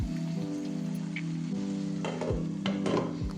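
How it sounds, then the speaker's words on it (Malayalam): Chicken with chopped garlic and chilli flakes frying in a pan, a steady close sizzle with occasional scrapes and stirring clatter throughout. "ചോപ്പ് ചെയ്ത ഗാർലിക്ക് നന്നായിട്ടൊന്ന് സോട്ട് ചെയ്തതിന് ശേഷം കഴുകി വെച്ച ചിക്കന് ആവശ്യത്തിൻ്റെ ഉപ്പിട്ടിട്ടൊന്ന് മിക്സ് ചെയ്ത് വെക്കാം"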